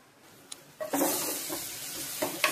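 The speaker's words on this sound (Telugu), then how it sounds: "ఇది బాగా వేగనివ్వాలి. శనగపిండి పచ్చివాసన లేకుండా వేగాలి." Ivy gourd fries in a pan with bengal gram flour, a steady close sizzle and hiss with a few scraping stirs of a spoon breaking through.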